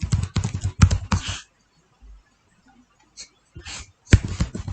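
Typing on a computer keyboard while coding in Python: a quick cluster of crisp, close key clicks, then a quiet pause with a few stray taps, and another brief flurry at the end.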